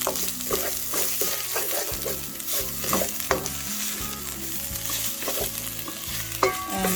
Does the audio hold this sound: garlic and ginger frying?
yes